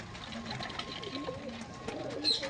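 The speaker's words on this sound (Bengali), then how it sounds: "এটা নর পায়রা।" A male pigeon in a loft of green pigeons gives soft, low throaty coos in short repeated phrases, close by, with other birds and faint chatter in the background.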